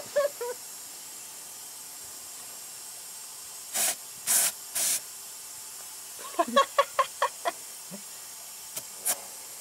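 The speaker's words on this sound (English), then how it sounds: "we're gonna air the tires up now" An air hose hisses in short, sharp bursts while a bus tire is inflated toward about 40 psi, first in a few longer blasts and then in a quick cluster of brief spurts, each set apart by quiet gaps.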